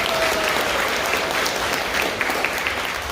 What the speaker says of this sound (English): Yes, definitely applause.